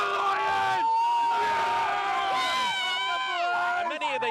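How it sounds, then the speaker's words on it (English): Crowd at a Brisbane Lions AFL premiership win celebration cheering wildly, a loud, dense roar of whoops and shouting voices filling the whole stretch without a break. "this crowd went wild"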